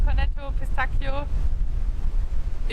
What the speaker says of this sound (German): Es ist windig.